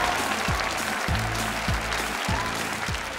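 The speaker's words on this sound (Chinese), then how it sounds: "掌声欢迎今天晚上5位男嘉宾登场。" A studio audience at a television dating show claps steadily to welcome five male guests, with the sustained applause running under loud stage music marked by repeated sweeping tones.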